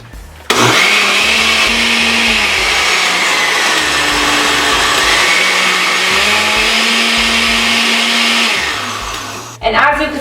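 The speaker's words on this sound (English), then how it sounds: "I made sure to blend that very well, just because you don't want a chunky juice" A blender whirs loudly for about nine seconds, mixing an immune-boosting juice with cayenne pepper, its motor pitch wavering as contents churn, then it stops and briefly restarts.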